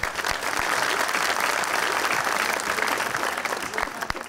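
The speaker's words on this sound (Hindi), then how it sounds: "इस पे तालियां जरूर।" A studio audience on a talk show applauds steadily, a dense, even wash of many hands clapping that holds strong for several seconds without talk over it.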